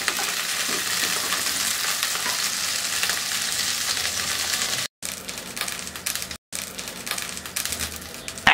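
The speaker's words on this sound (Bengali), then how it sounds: "আমি কিন্তু সরিষার তেলে ভাজিটা করতেছি" Rohu fish pieces frying in mustard oil give a constant bright sizzle and crackle in a pan, steady and close, with two brief dropouts near the end and no talking.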